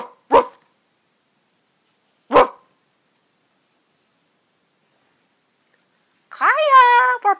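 People imitate a dog barking, giving two short separate woofs with silence between, followed by a longer, drawn-out howl-like vocal call at the end.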